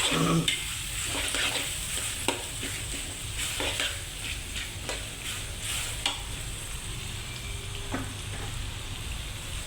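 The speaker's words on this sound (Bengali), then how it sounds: "কিছুক্ষণ লাড়াচাড়া করতে হবে আর কি বাদামি কালার বানাতে হবে" Shrimp masala is stirred in a pan until it browns, a continuous frying hiss broken by repeated scraping strokes and light clanks of the spatula, close and without talk.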